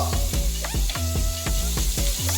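Garlic, ginger and spices sizzling in hot oil in a pan while cooking mutton sukka, a steady loud crackle with repeated stirring scrapes, no talking.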